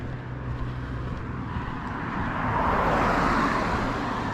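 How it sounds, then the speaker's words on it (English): A car passes on a road during a summer night walk. Its steady rushing engine and tire noise swells louder toward the end as it goes by, with no talking. "For this car to go by and I'll sign off."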